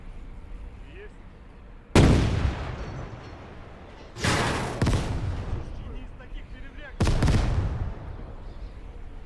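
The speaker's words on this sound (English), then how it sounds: "Looks like we have guns firing at that." World War II battle in the game Gates of Hell, Soviet defense outside Moscow in 1941: three heavy artillery or gun blasts crack out loudly at intervals, each followed by a rumbling decay over a low battlefield din.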